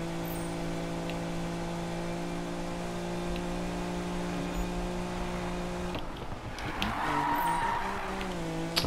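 A 1971 Nissan Fairlady 240 ZG in Need for Speed drones at a steady engine pitch, then the note shifts and roughens as it accelerates, with tire squeal rising toward the end.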